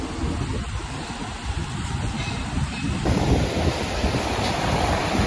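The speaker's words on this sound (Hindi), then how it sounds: "हवा चल रही है, ठंडी ठंडी हवा" Cool sea wind at a beach by a floating bridge, roaring steadily and buffeting the microphone with a loud, continuous rush that thickens after a few seconds, with surf mixed in and no talk.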